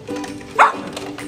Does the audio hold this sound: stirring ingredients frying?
no